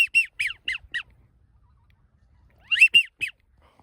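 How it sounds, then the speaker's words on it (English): Ducks and geese calling in thick fog in Northern California, a quick run of squawking honks, a pause, then another short burst, fairly close and clear with no talk. "I will shoot a widgeon though."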